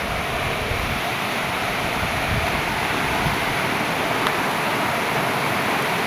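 A clear river runs steadily at a bathing and washing spot, making a continuous, close, full rushing wash of water with no pauses and no voices.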